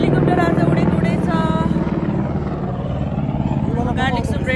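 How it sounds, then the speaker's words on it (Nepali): A helicopter flies near Machhapuchhre Base Camp on the Annapurna Base Camp trek in the Nepal mountains, a loud steady rotor drone filling the whole stretch while someone talks over it. "हेलिकप्टर आज उडेको उडेछ"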